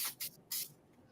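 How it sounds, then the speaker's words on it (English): Pixie Spray aerosol is sprayed onto acrylic in three quick hissing bursts, close and crisp, the last one longest, with no talk. "I'm not spraying directly on my desk"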